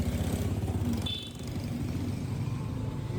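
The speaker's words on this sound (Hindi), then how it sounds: "चलो जी, बाइक स्टार्ट हो गई है।" A motorcycle engine idling steadily and close just after being started, a continuous rumbling putter in a motorcycle market area, with no talk.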